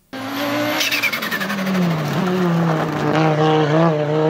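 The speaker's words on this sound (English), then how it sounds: "it tries going back towards the turbocharger, so it just gets chopped up by the compressor wheel, which is still spinning at very high speeds" WRC rally car with turbo anti-lag, boost air chopped by the still-spinning compressor wheel: a loud, sustained engine roar with rapid fluttering pulses and a falling whine, no talk.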